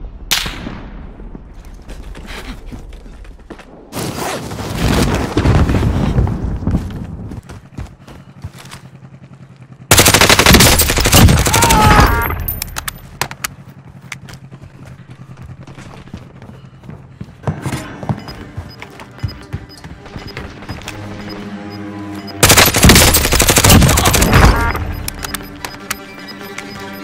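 Automatic gunfire in Warzone's zombies mode at the prison complex erupts in three loud, sustained bursts, each a few seconds long, separated by quieter stretches of distant shots and game ambience.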